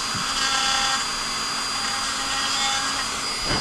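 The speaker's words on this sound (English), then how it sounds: "And against the rotation of the blade, you cut more. Depending on what you want to do with the Dremel." A Dremel rotary tool cuts with a blade while building a Boba Fett prop replica, giving a steady, loud, high-pitched whine that holds evenly for several seconds.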